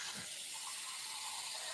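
Hot water runs steadily from a kitchen tap into a sink during a Thai cooking session, a continuous soft hiss and gush heard on its own without talk.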